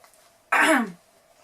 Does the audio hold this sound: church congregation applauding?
no